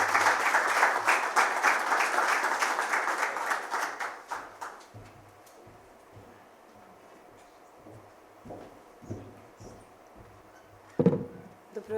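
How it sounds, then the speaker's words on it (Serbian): Warm audience applause at an award ceremony honouring a humanitarian, loud for about four seconds before fading into scattered claps, shuffling and a few knocks in a quieter hall. "velikim aplauzom pozdravimo gospođu Snežanu Vučetić"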